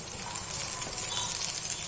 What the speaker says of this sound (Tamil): எண்ணெய் ஹீட் ஆனதும் ஒரு ஸ்பூன் கடுகு சேர்த்துக்கலாம்.